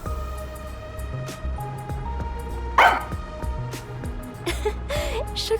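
A pet dog named Sugar barking in the video game Master Detective Archives: Rain Code Plus, with several short barks and yips over a background music bed.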